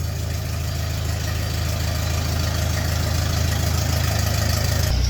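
An old, cheap auction tractor engine idles with a steady, rhythmic low chug up close, running evenly and loud, with no voices.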